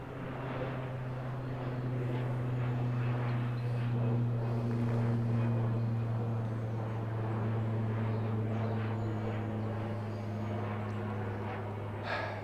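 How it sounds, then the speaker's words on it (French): A low, steady engine drone of an airplane passing overhead, swelling slightly midway and lingering throughout. "Un avion qui passe."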